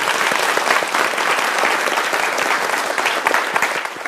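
Audience applause in a lecture hall for a young man who asked a question, a steady dense wash of many hands clapping throughout, close and fairly loud with no talking over it.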